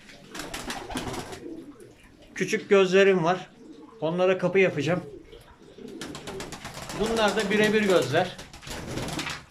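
Pigeons coo in a rooftop coop in bursts of soft, repeated calls, close by, with someone talking over and between them.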